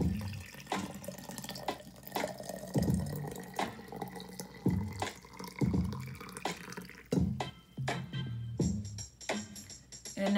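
Hot water pours and splashes for herbal tea, a stop-start series of close liquid gurgles and drips in uneven bursts, with a brighter trickle toward the end.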